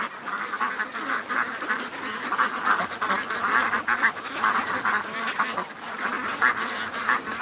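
Muscovy cross ducks quack and chatter nearby in a dense, overlapping stream of calls, loud and steady throughout with no speech.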